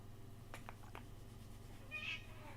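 A pet cat meows once, a short nearby call standing out against a low steady room hum, with faint soft sounds just before it and no talking.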